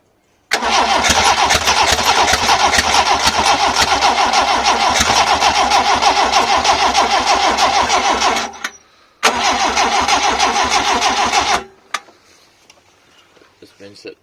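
A Toyota Corolla 2E engine with twin Weber carburettors, left sitting for a while, is cranked over. A loud, rapid, rhythmic starter churn runs for several seconds, pauses briefly, resumes, then cuts off into near silence.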